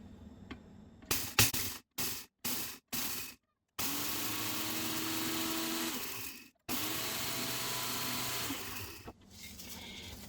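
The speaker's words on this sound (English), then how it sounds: "You always want to pulse it 5-6 times until you get it down, and then go ahead and do the full grind." An electric grinder reduces dehydrated carrots to powder: several short motor pulses with silent gaps, then a long continuous whirring grind that cuts off briefly and resumes, loud and close, without speech.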